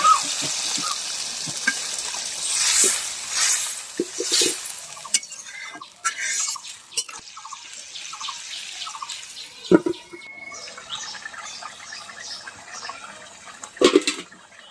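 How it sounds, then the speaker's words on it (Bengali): Water is poured into a raw mango and magur catfish curry to make the gravy. A splashing pour opens, then softer bubbling, dripping and clinking sounds follow, and no one speaks. "ঝোলের জন্য পানি,"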